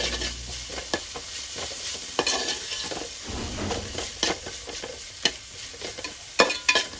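Slit green chilies sizzle in a pan with ginger-garlic paste, a steady frying hiss broken by repeated scrapes and clinks of a spoon stirring against the metal.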